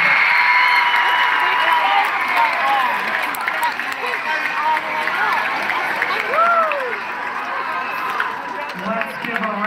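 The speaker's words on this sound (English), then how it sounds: "Let's give a round of applause to all of our instrumental ensemble." A crowd at an outdoor park music festival for school bands claps and cheers steadily and loudly throughout, with talk and shouting mixed into the ongoing applause.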